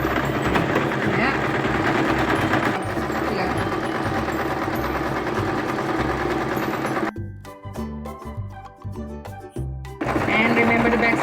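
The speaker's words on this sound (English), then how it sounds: "This is my sewing machine." A home sewing machine runs steadily while hemming a cotton pillowcase, its fast mechanical whir loud and close, then breaks into short start-stop bursts for back stitching before running continuously again.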